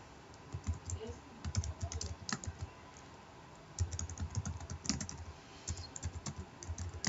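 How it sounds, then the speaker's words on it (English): Rapid, uneven clicking of keys on a computer keyboard, typed in bursts with short pauses, close and fairly quiet. "I'll be typing on the screen itself."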